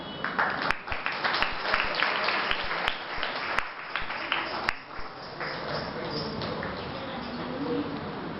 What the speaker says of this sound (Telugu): క్లాప్స్ కొట్టమ్మా.